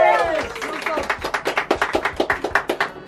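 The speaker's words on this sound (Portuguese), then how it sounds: "Salva de palmas." A small group claps at home in a quick, steady rhythm, the sharp claps standing out clearly after voices talk and laugh over the first second.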